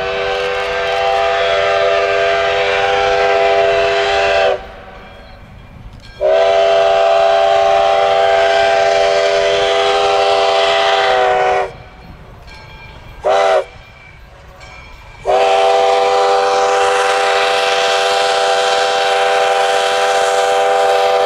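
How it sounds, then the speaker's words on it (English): A small train on the Buttermilk Curve in sugar cane country sounds loud, sustained horn blasts, three long blows with short breaks, close and dominant over faint rail noise. "The attractive little train was quite the subject as it swept its way around the Buttermilk Curve."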